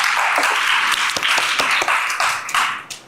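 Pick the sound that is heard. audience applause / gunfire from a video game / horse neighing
audience applause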